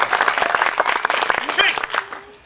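An audience applauds a volunteer at a science show, with dense, lively clapping for a couple of seconds that fades out, while a voice calls out over it.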